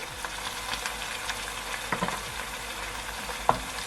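Ginger and garlic paste frying in a pan for mutton curry, a steady soft sizzle with occasional stirring scrapes and a sharp utensil tap near the end, no voices.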